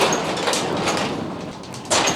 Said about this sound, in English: this glass window garage door opens all the way up